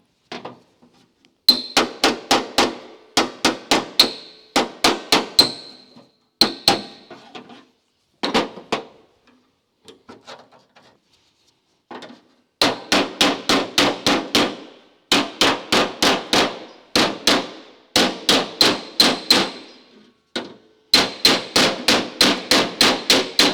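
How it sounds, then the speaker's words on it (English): A hammer and dolly beat a rusty car door panel in a workshop, with rapid bursts of sharp metallic clangs, pauses between bursts, close and loud. "hammer and dolly and we'll get the rest of it to come over easily"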